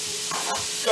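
Sauce ingredients hit a hot wok with a brief hissing sizzle and a quick stir, close and fairly quiet, with no voices.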